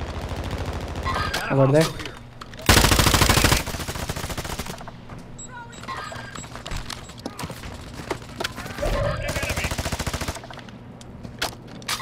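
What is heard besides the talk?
gunfire, someone shooting at a person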